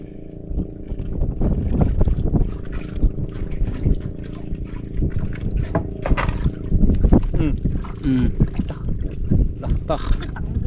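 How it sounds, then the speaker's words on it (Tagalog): Motorboat engine drones steadily as the hull slaps across water, with wind noise and people talking over it. "bilis ng patakbo ng bangka oh"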